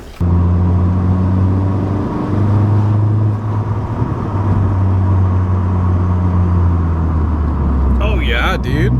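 A Nissan B13 Sentra engine hums steadily with low rumbling, building briefly as it accelerates, with road noise throughout and a short burst of voices near the end.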